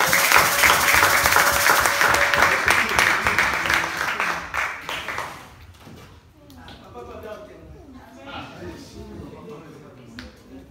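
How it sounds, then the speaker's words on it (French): A church congregation at a Sunday service applauds in a dense, loud burst of clapping lasting several seconds, then fades out as a voice takes over in the hall. "applaudissons pour la couragée."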